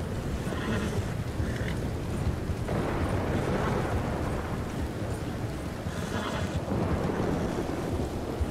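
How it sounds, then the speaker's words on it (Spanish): A thunderstorm rolls through the RedM western game, with a dense wash of heavy rain and low rumbling thunder filling the scene, a horse whinnying briefly over it. "Tormenta."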